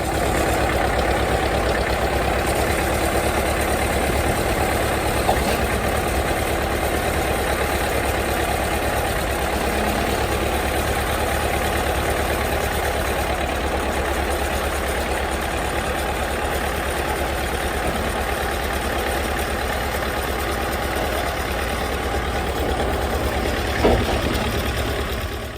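An International truck's engine runs at a steady idle, a loud, continuous low rumble with even knocking pulses heard up close, unchanged over the whole stretch.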